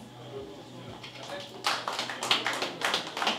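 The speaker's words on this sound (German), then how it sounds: "Ihr Applaus." Audience applause at a boxing weigh-in ahead of a world title fight night in Hamburg, with scattered clapping swelling into a fuller burst of hands that comes in quick rhythmic waves, fairly close and loud.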